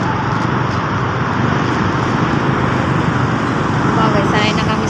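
Dense road traffic in Baclaran on a busy market day forms a steady, close wash of engines and roadway noise, with no pauses throughout.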